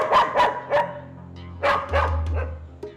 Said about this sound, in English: A mongrel stray from Brazil.